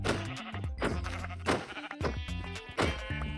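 Several Minecraft sheep bleat in a run of loud, close, wavering baas, four or five calls following one another with brief gaps, with no talking.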